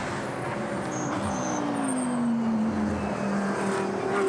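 A GT race car drives through night practice at the Spa 24 Hours in 2018, its engine a steady, loud drone with a rising and falling pitch as it passes.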